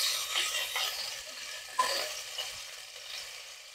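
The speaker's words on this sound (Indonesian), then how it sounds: "Yang pertama kita masukkan untuk bawang merah dan bawang putihnya ya teman-teman. Ini Bunda tumis dulu." Shallots and garlic sautéing in a pan, a bright, close hiss of frying with a single stir or clink in the middle of the short burst.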